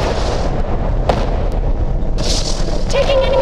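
Booming enemy-fire explosions from the space combat game Sword of the Stars: Born of Blood go off in loud bursts, a sharp hit early and a bigger blast near the end, over dense game noise with a player talking.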